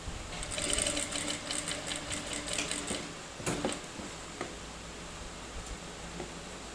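A sewing machine stitching the lining of a backpack panel, running in a steady close mechanical whir with fast needle clatter that pauses briefly, then continues more quietly.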